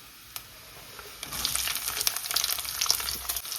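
Chopped shallots hit hot oil in a pan for a drumstick curry, and a soft background hiss swells into a bright, steady sizzle with crackling pops that continues close to the microphone without speech.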